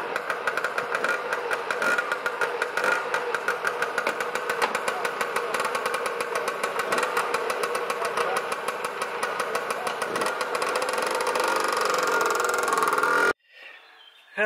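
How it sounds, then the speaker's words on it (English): Lambretta scooter fitted with a BGM V4 Sport clubman engine running on a test drive, a loud steady two-stroke drone that stays close and constant before cutting off abruptly near the end. "Let's take this out and have a little test drive, see how it goes."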